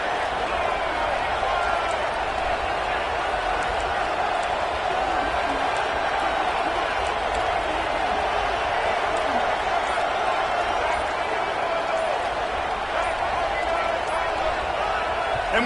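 A packed football stadium crowd roars steadily and loudly for the whole stretch, a continuous dense wall of cheering that never lets up, with some voices audible inside the din.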